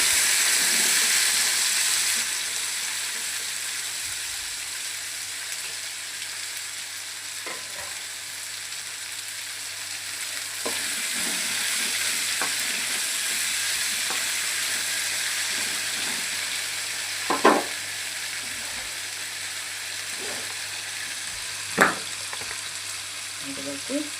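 Ivy gourd (dondakaya) frying in oil in a pan, a long steady hissing sizzle with occasional faint stirring knocks and a few sharper clinks later on, close and even in level, no voices.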